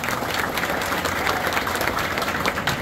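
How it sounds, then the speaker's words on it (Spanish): A crowd gives loud, sustained applause to welcome a candidate for deputy at a PLD party swearing-in event in the Juan López municipal district, with dense clapping throughout and no talk. "Vamos a recibirla también, Juan López, con un fuerte aplauso."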